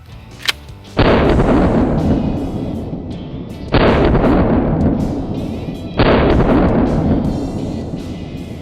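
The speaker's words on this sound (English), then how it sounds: "I just love 12 gauge shotguns. I mean, they're so powerful and they just deliver so much energy and destruction downrange." Three loud, booming 12 gauge shotgun blasts fire at a printer outdoors, evenly spaced, each with a long rumbling decay, after a faint click.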